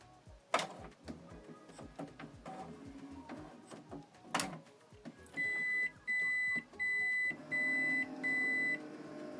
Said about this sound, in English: What you need to do is switch the printer on from this button.